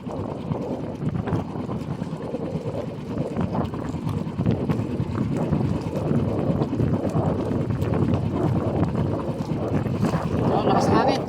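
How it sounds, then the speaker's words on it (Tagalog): Strong wind roars steadily across an outdoor microphone, a dense, continuous rumble with gusting texture, and a voice speaks briefly. "Oh, lakas ng hangin."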